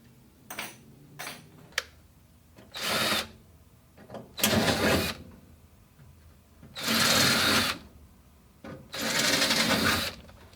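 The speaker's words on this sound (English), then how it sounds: "So now it's back to drilling time." A power drill drilling holes in metal while installing door latches on a 1968 Dodge Dart race car whirs in several bursts, with short taps and clicks between them and a few longer runs near the end.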